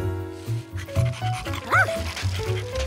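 A dog barks and yips several times close by in a Curious George cartoon dubbed in Spanish, with whimpering, whiny sounds between the short barks.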